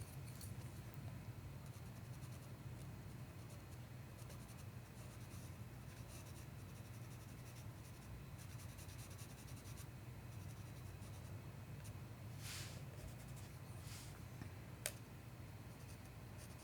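A charcoal pencil shades paper for a charcoal portrait drawing, making a steady, close, continuous scratchy rasp of repeated strokes, with a few sharper scrapes toward the end and no talking.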